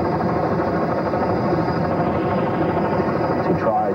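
A rescue helicopter's rotor and engine drone steadily throughout, a dense, continuous mechanical roar with no clear pauses.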